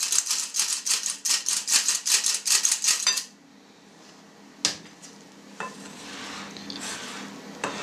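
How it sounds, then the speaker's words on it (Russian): A spoon stirs sifted flour into a homemade bread starter, giving a run of quick, even scraping and tapping strokes up close for a few seconds, then fading to quieter, scattered clinks and scrapes. "Часть муки вносим в опару и хорошенько размешиваем"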